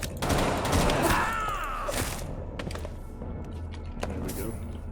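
Bursts of video game gunfire, dense and loud at the start and thinning into scattered shots, while someone talks over the action.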